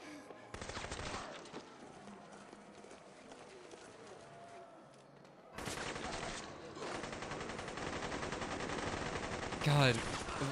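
In the Dead Rising video game, gunfire crackles in rapid, tinny bursts, with a dense burst early and another sustained stretch later, loud over the game's background sounds.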